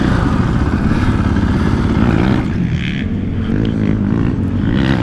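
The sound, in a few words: KTM 450 Factory Edition dirt bike engine riding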